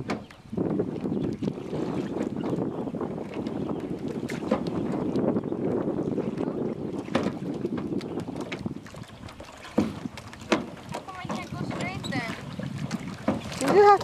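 A small boat is paddled on open water with wind buffeting the microphone, irregular splashes and knocks of paddle strokes breaking through, and people chatting nearby throughout.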